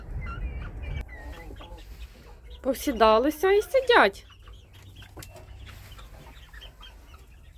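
A hen breaks into a short burst of agitated, rising clucks amid quieter farmyard chatter of hens and chicks, with a person talking softly before and after.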